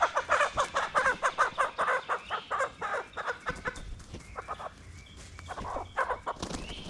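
Rapid, repeated clucking from chickens close by, a busy rhythmic stream that thins out briefly before picking up again.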